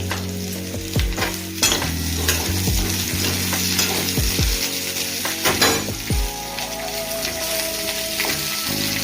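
Mixed vegetables, including aubergine and tomato, fry in a pan for South Indian sambar, with a continuous close sizzle and repeated scraping stirs and light utensil clinks against the pan.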